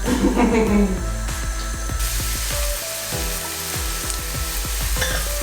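Onion, garlic and shallots sauté in a pan for mushroom risotto, giving a steady close sizzle broken by repeated soft scraping strokes of stirring, with a brief louder bubbly burst at the start.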